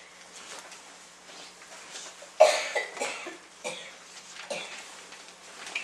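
A person coughs several times in short, harsh bursts, with quieter breaths and throat sounds in between.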